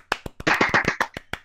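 A short burst of hand clapping inserted as a sound effect on a gaming podcast: a few crisp, sharp claps, then a quick flurry of overlapping claps, and then scattered single claps, close and clear with no voices.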